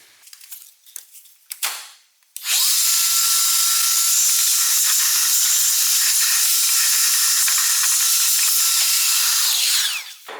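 A vacuum cleaner runs steadily for several seconds, drawing dust out of the cabin filter housing of a BMW G30 530e M Sport hybrid, with a loud, continuous hissing airflow after a few brief handling noises.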